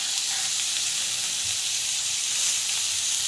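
Tomato, green chili and carrot sauté in hot oil, giving a steady close hiss and sizzle that stays even for a few seconds without talk.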